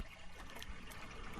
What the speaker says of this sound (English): the water going over the jets of the propellers in the back of the boat, propelling itself through these calm waters